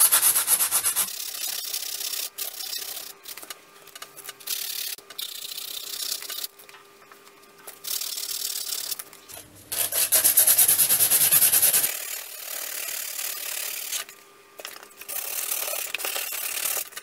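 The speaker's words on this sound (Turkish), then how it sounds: "yarığın olduğu yeri güzelce zımparalıyorum" Dry, scratchy rubbing of sandpaper on a tire around a split, in steady bursts with short pauses, close to the microphone with no talking.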